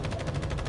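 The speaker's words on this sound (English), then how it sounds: "gunfire." Rapid bursts of automatic gunfire from the video game The First Descendant, close and loud, rattling in quick repeated shots for under a second with no talk.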